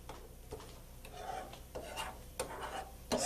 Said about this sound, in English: Scrape the sides occasionally.